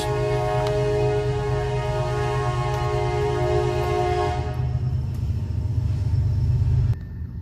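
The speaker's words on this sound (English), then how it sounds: "And I apologize for the train going by." A loud, steady rumble of a passing train with a droning horn-like tone that fades partway through, leaving the heavy rolling noise alone.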